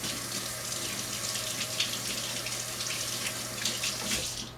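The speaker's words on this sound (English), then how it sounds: "I'm going to rinse my hands quickly." Water running from a kitchen tap while hands are rinsed, a steady close splashing stream that continues without a break and eases off at the end, with no speech.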